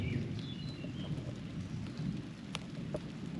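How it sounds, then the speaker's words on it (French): Steady rain falls during a thunderstorm at a campsite, a dense continuous patter with low rumbling underneath and a few brief sharper drops, faint and distant with no voices. "l'orage est toujours présent."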